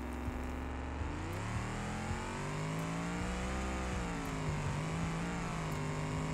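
A Chevelle race car in the BeamNG.drive video game runs with a steady, whirring engine drone whose pitch climbs and shifts as it accelerates and changes gear. The engine sounds moderately close and carries on without a break.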